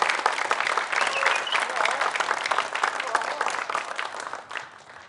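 Warm audience applause and clapping at a comedy show, a dense, steady wash of many hands that continues for several seconds before easing slightly at the end.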